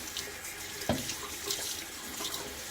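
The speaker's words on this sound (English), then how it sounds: "Now I'm going to rinse off." Tap water runs steadily into a sink as someone rinses off after a shave, a continuous close splashing stream with a few small splashes and bumps along the way.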